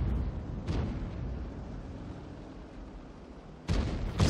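Tank cannon fire in the World of Tanks video game: a booming shot early on, then two heavy blasts close together near the end, over a low rumbling background.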